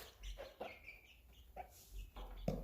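Young chickens clucking nearby, a handful of soft separate clucks and short calls in quick succession against a quiet background.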